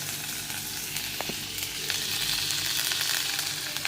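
Mustard seeds and cumin sizzling in hot butter in a pan, a steady close crackling fry that swells louder halfway through, with a couple of faint pops and no talking.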